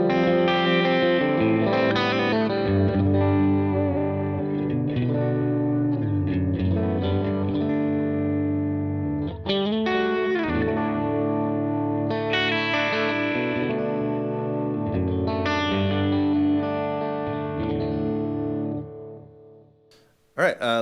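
Electric guitar with compression from a Line 6 HX Stomp, played through an amp with a Tone Junkies Alnico Silver speaker, sustained chords and melodic lines with a smooth, even level, ringing out alone for about twenty seconds.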